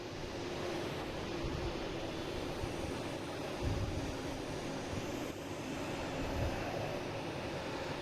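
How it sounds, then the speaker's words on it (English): A Delta Airbus A321neo airliner bound for San Diego produces a low, steady, fairly faint engine roar at a distance, with a couple of brief gusts of rumble. "Here's Delta heading to San Diego on A321neo"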